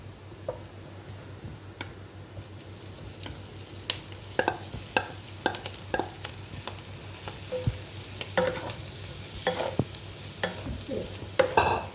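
Clam meat stir-fried in masala in a pan gives a steady sizzle broken by frequent clinks and scrapes of a spoon stirring, close and fairly loud throughout.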